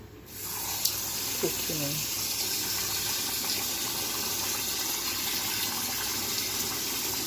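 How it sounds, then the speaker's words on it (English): Water runs steadily into a cooking pot of rinsed rice, a continuous splashing flow heard close, with a voice speaking briefly near the start. "I would rinse the rice and pour it back in the pot, add some water"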